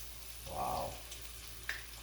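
Corn fritter batter dropped into hot oil, giving a soft short burst of sizzling followed by quiet bubbling and a faint light tap, close by and fairly low in level.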